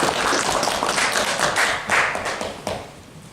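A small audience at a public policy debate claps to welcome a committee chair, a modest group of distinct, fairly close hand claps with an uneven rhythm that swells briefly and then tapers off.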